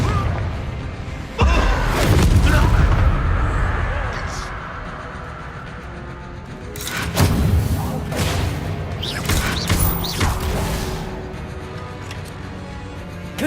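Confringo spell explosions in Hogwarts Legacy: two heavy, booming blasts, one early and one midway, each trailing into crackling rumble over a steady bed of game sound.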